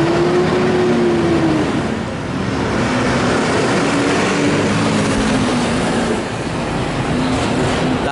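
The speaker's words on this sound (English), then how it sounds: "Did you enjoy that nice loud truck that went past?" A loud truck drives past, its deep engine rumble and rising-then-falling tonal whine filling the space close by, sustained and heavy throughout with no talking.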